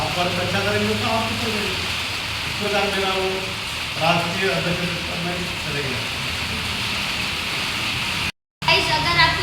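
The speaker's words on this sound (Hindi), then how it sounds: "क्योंकि ये बारिश की आवाज़ है," Heavy rain falling outside, a steady broad hiss under someone speaking close by, with a brief dropout near the end.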